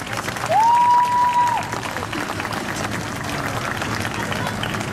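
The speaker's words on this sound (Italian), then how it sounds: "E c'è l'applauso." An audience at a Christmas figure skating show in Conegliano breaks into applause, a broad, roomy wash of clapping that swells and then settles under a brief held tone and background music.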